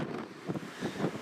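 Strong gusty wind from Storm Kathleen at Newcastle International Airport, buffeting the microphone with a steady broadband roar that swells in rough surges, moderately quiet and with no voices.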